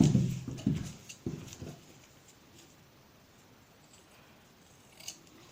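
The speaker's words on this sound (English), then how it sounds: "Okay, so I'm just going to cut." Scissors cut fabric for a shirt dress with a few crisp snips up close at the start, then fading into quiet handling and faint rustle.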